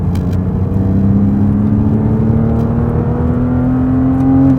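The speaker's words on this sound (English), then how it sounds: "it's got a Remus exhaust which makes this noise" A loud, close engine growl from a sports car's Remus aftermarket exhaust rises steadily in pitch as it revs, a continuous throaty drone throughout.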